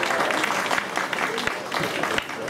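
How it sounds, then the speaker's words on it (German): Audience at a Dortmund Christmas market clapping to welcome a young singer named Nina onto the stage, a brief burst of dense, fairly loud applause from a crowd. "Applaus für unsere Nina."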